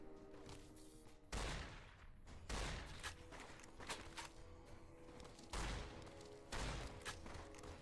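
Gunshots ring out in Fallout New Vegas, the video game, as several sharp booming blasts spaced a second or two apart over a steady low ambient bed, fairly close and punchy.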